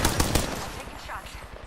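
Gunfire rings out in the video game Apex Legends as a quick burst of several loud, rapid close shots that then tail off into a noisy, reverberant decay.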